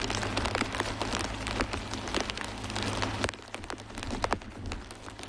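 Steady heavy rain pours down during a youth rowing championship race in the US Northeast, a dense continuous hiss with scattered sharper drops, wind adding rumble, and no voices.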